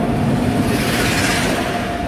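The 12460 New Delhi Intercity Express pulls into a station, a loud continuous rumble of rolling wheels and carriages close by, with steady broadband noise throughout.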